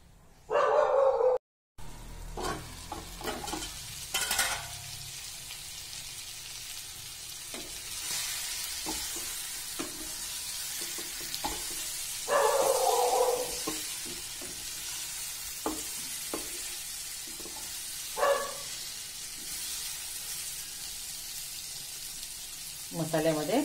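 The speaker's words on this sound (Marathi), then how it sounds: "जरा वेळ झाकण ठेवून वाफवून घेऊया." Drumstick pods cooking in masala in a covered pan give off a steady close sizzle and hiss, broken by a few louder clatters and scrapes of stirring, with no talking.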